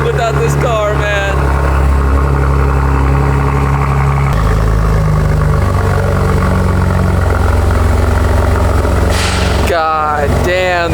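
A BMW M4 Competition idles with a steady, deep rumble that holds throughout, and someone speaks briefly at the start and again near the end.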